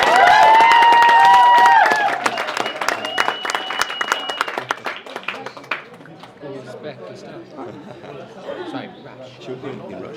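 Wedding guests at the Kirribilli Club in Sydney burst into loud applause and cheering that fades after about two seconds into scattered claps and crowd chatter, with voices talking throughout.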